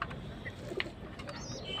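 A pigeon coos softly beside a nest holding a newly hatched chick, brief low calls over a steady dull background hum, with faint chirps nearby.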